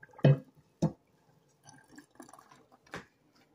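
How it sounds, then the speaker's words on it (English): Water poured off boiled potatoes into a sink, heard as two sharp splashing gushes followed by softer trickling and a final splash, fairly close with no talking. "now I'm draining my water from my potatoes."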